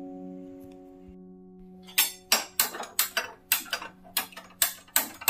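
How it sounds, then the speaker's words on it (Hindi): Dishes, pots and utensils being washed clink and clatter in a rapid, irregular run of about a dozen sharp knocks, loud and close, after a couple of seconds of quiet hum. "तो हम करते हैं बर्तन साफ।"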